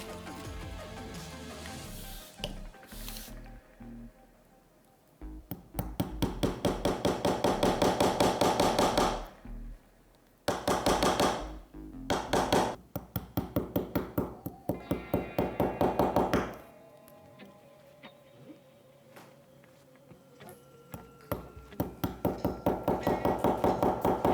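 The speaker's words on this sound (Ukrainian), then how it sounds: "Намагаємося забивати цвяхи приблизно на однаковій відстані один від одного." A hammer drives round-headed nails into a wooden board for string art, sounding as loud, rapid, evenly spaced metallic taps in repeated bursts, separated by short pauses and quieter handling. No one speaks.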